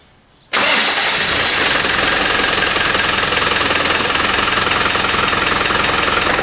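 A Land Rover Defender 300tdi diesel, fitted with a VNT turbo and running with the bonnet off, cranks and catches almost at once, then settles into a loud, steady, close-up idle with a rough knocking clatter.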